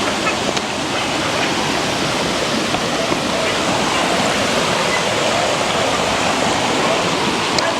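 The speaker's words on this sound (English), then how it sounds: "So look like the river come down recently." River water rushes past in a constant, dense roar, close and even throughout with no breaks.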